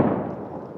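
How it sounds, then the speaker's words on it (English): A deep, muffled thud from a US coalition airstrike in Raqqa, one booming low rumble that decays over under a second, heard alone without talk. "There's the thud of US coalition airstrikes"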